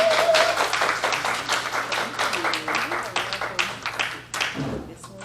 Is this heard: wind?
no